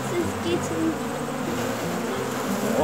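A dense, steady buzz of many honey bees fills the air, close and continuous, with droning tones rising and falling.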